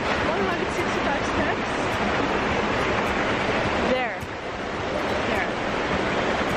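A waterfall in Bali gives a steady, loud, broadband rush of falling water close by, continuous throughout with a brief dip near the middle and wind buffeting the mic.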